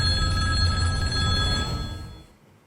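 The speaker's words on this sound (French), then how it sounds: "Parce que le téléphone va sonner dans 3" A telephone rings loudly and close with a steady electronic bell tone that holds for about two seconds, then cuts off and fades quickly.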